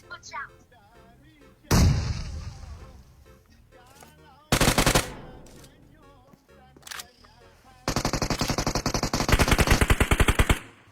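Video game gunfire comes in several bursts: a heavy blast, then a second burst, and finally a long sustained run of rapid automatic fire that ends the clip. The shots are loud and punchy, with faint chatter between them.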